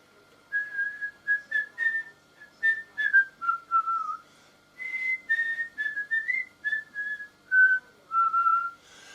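A person whistles a melody alone, a string of clear short tuneful notes with brief pauses, close and steady.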